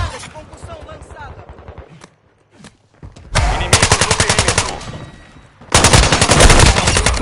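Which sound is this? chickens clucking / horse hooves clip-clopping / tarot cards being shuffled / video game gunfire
video game gunfire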